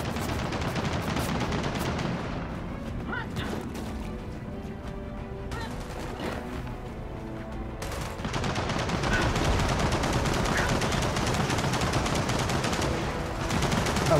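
Sustained machine gun fire in the Gears of War 4 campaign, a dense, loud battle with continuous bursts and rattling shots over more than ten seconds, briefly thinning before intensifying again.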